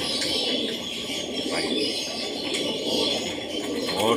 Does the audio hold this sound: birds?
yes